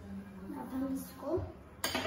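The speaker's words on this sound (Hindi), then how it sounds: "मैंने जैगरी डाल दिया और अब मैं इसको थोड़ा मिक्स करूंगी।" Jaggery being stirred in a pan while someone talks over it, with soft scraping and a sharp metallic clink near the end.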